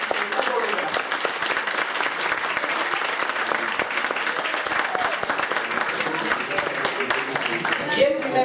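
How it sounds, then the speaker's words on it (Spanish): An audience at a philosophy olympiad award ceremony gives loud, sustained applause. Dense clapping runs continuously for several seconds, with voices faintly audible near the end. "Un aplauso, por favor,"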